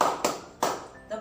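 Three crisp hand claps ring out in an even rhythm during a classroom clapping game, sharp and close, with quiet room noise between them.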